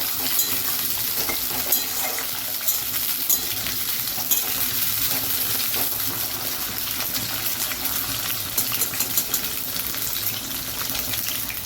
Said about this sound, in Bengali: আলুগুলোকে আমরা একটু হালকা ভাজা ভাজা করে নেব